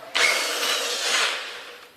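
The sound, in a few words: drill enlarging a hole in a concrete wall, no hammer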